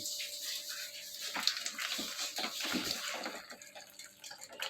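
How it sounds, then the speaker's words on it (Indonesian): Not-too-hot water poured over a raw crab to clean it, a steady splashing trickle with drips running continuously and close up, no voices. "air yang tidak terlalu panas, yaitu guna untuk langsung menyiramkan pada bagian kepiting"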